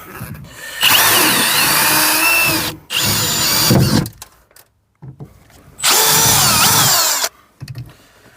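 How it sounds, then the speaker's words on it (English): A power drill drills out plastic clips stuck in a Ford Kuga car door, running in three loud sustained bursts with short pauses between, close to the microphone. "Drill them out."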